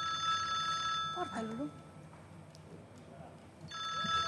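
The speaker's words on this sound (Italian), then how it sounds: "Squilla un telefono?" A telephone hidden in a drawer rings in a television studio, with a bright electronic ring burst at the start and another at the end, and people talking in between.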